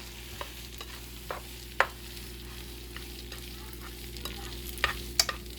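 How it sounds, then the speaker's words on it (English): Pasta stirred through a buttery garlic shrimp scampi sauce in a pan, giving a soft continuous background with scattered light scrapes and clicks of a utensil, a few sharper taps near the end; no talking. "I'm just gonna kind of mix the pasta in that buttery sauce"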